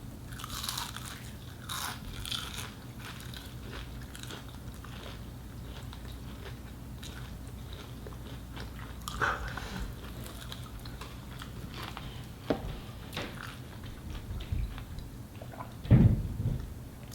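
Crunchy biting and chewing of chicken nuggets and onion rings, close to the mic, with repeated crisp crunches over a steady low background hum and a louder bite near the end.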